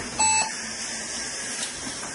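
A Megatouch Maxx Jade Edition arcade machine gives a single short, clear electronic beep as it powers on, followed by a faint hum in an otherwise quiet room.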